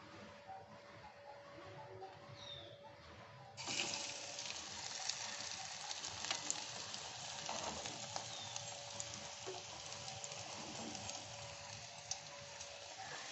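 Stuffed cabbage cutlets frying in oil, a continuous low hiss of sizzling that grows fuller partway through, steady and moderately faint, with no voices.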